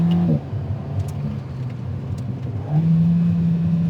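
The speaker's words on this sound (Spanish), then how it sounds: "este propulsor tiene además un sonido que me parece que es muy bueno" An Alpine A110 R's turbocharged engine pulls hard in sequential gears, its tone rising, dropping at an upshift, then climbing again, loud and close with no talking.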